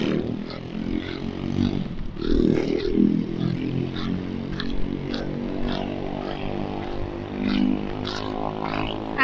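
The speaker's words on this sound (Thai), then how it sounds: "มีเสียงเด็กแว้นนะคะ" Motorbikes rev on a town street in Riihimäki, Finland, their engine notes rising and falling at a moderate distance over general traffic clatter.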